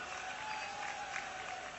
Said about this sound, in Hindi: आपने ताली बजा के आनंद लिया है